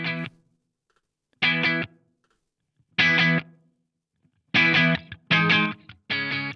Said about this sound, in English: You can hear that those bigger valves are giving you some more thrap.